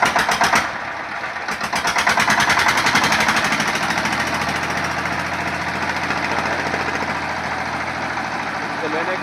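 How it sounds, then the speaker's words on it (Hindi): A Bharat Industrial 12 HP engine driving a 7.5 kVA alternator with a deluxe radiator runs loud and steady, its close, continuous rhythmic thrum dominating throughout, with brief irregular knocks near the start. "और ये इंजन देखिए 12 HP।"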